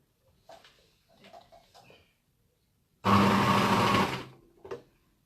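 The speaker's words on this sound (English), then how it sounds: "I'm gonna use a serger because it's really quick and easy to serge it." A serger sewing machine runs in one loud, steady burst of about a second as it stitches the crotch seam of a garment, with brief softer sounds around it.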